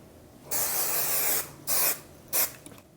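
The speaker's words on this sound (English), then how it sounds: "We're gonna tuck our hand up underneath our bangs, spray it." Three hissing bursts from an aerosol can of hair product sprayed under bangs, a long spray followed by two shorter ones, close and clear against a quiet room.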